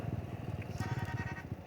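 A modified Yamaha YBR motorcycle engine idles in a steady, close, rapid low thumping pulse that runs on alone with no talk.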